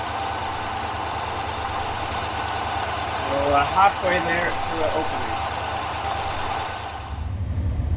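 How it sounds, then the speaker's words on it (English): A Rover V8 idles steadily with the choke partly on, holding the revs slightly raised in a low, even rumble while someone talks over it. "I have the choke on a little bit just to keep the revs up"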